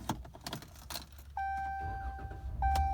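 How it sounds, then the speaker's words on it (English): Keys jangle, then the 3.6L V6 of a 2015 Ram 1500 Big Horn 4X4 pickup is started, followed by a steady idle with a chime tone, heard up close inside the cab. "I'm going to grab the keys and we'll start this thing up."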